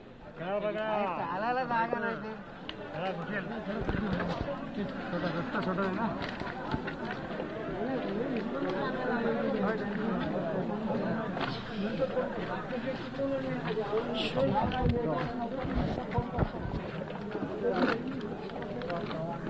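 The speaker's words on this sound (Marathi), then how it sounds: "खूप मोठी गर्दी झाली आहे" A large crowd in a flood-hit market street in Maharashtra: dense, continuous babble of many overlapping voices, close and fairly loud, with footsteps and movement mixed in throughout.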